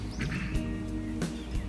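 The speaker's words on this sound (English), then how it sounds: "Alright, this is a duck." A duck quacks a few times over a steady background hum, the calls short and moderately loud.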